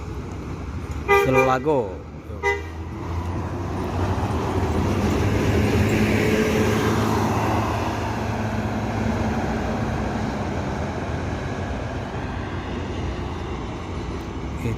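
A bus pulling into the Solo bus terminal sounds a loud horn with a few short toots early on, then a steady engine and crowd rumble fills the station, with talk over it.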